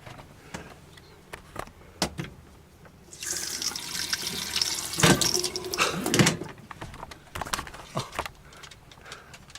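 Water runs into a sailboat's onboard water tank, a steady splashing flow that swells louder midway with a few brief gurgling surges before easing back.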